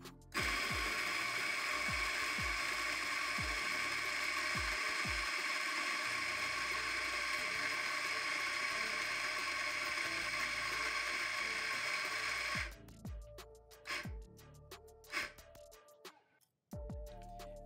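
Baratza Sette 270Wi coffee grinder grinding beans into a portafilter, a loud steady whirring drone for about twelve seconds, then stopping into short stuttering bursts and clicks as it tops up the dose.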